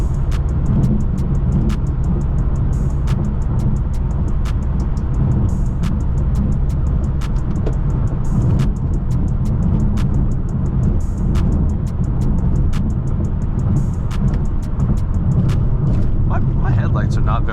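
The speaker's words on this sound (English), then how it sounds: "both my Genesis and my M6, they sound better and seem to drive faster when it's raining outside" A BMW M6 drives on a wet road on a rainy night, heard from inside as a loud, steady engine and road drone with regular light ticking and a voice talking over it.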